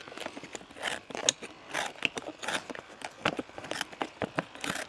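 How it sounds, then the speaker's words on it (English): Small tin snips cut around a leather pad for a horseshoe during farrier work, giving a close series of crisp clipping snaps and crunches in an uneven rhythm. "Get my little tin snips."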